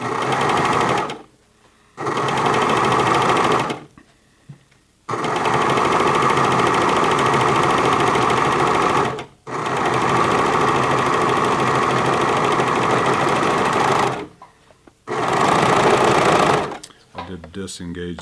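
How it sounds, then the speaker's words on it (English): A Singer heavy-duty serger sews dense canvas in four loud, close whirring runs of steady stitching, each separated by a brief silent pause. "we're going to serge down the side of it and see how it does"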